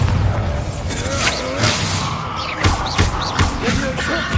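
Booming spell blasts from the Hogwarts Legacy Bombardo explosion curse ring out amid a dense game battle, several loud impacts spaced through the clip over a busy mix of effects and vocal sounds.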